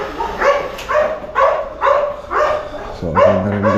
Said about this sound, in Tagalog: May aso dyan, may aso